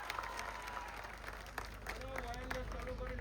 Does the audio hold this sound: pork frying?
no